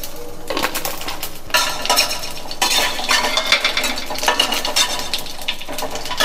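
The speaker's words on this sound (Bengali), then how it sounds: "এই তেলটার মধ্যে আমি একটা শুকনো লঙ্কা আর 1/2 চামচের মতো জিরে দিয়ে দিচ্ছি" Dried chili and cumin seeds hit hot oil in a wok, producing a loud, steady crackling sizzle with brief surges, close up, alongside light metallic clinks of a utensil against the pan.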